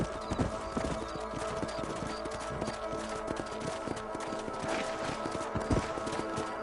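Horse hooves clip-clop in a fast, continuous rhythm in Red Dead Redemption, loud and close, with occasional snorting and game ambience beneath.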